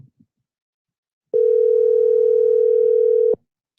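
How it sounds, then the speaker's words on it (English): Telephone dial tone heard while placing a call, a single steady loud tone lasting about two seconds that starts and stops abruptly, with silence around it. "Making a phone call"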